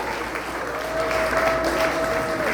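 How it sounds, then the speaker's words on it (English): Crowd applause at a political campaign launch, moderate clapping that swells slightly midway and continues steadily, with a faint tonal sound running underneath. "let's give a nice round of applause"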